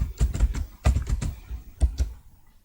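Quick clusters of keystrokes tap on a computer keyboard, close and crisp, in short bursts of four or five clicks separated by brief pauses.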